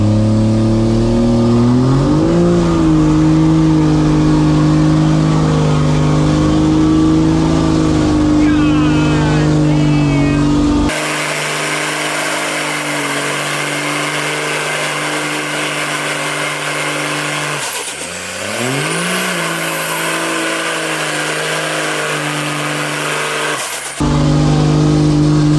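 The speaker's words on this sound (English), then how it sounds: "he about to do a burn on his Cummins" A Cummins diesel truck engine roars loudly during a burnout, holding a heavy drone, then rising and dipping in pitch as it revs, close and dominant throughout.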